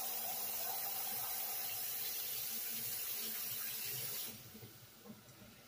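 Very hot, near-boiling water runs steadily from a kitchen tap with a broad hissing rush for about four seconds, then cuts off, leaving faint drips and small clatters.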